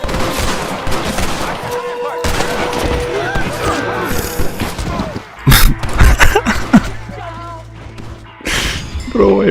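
Gunfire rings out in the western video game Red Dead Redemption, with bursts of rapid shots and sharp single cracks amid crashes and clatter, loud and close, interspersed with raised voices talking.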